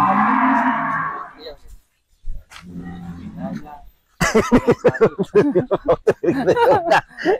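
On a cattle farm selling sacrificial cows, a cow gives one low, drawn-out moo at the start. Silence follows, then people talk and laugh close by.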